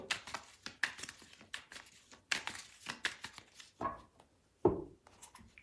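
A tarot card deck being cut and handled, giving a run of quick, close, crisp papery snaps and slaps in irregular bursts, with short quiet gaps between them.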